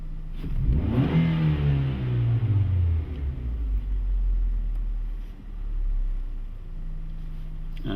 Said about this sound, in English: I'm going to give it a quick snap throttle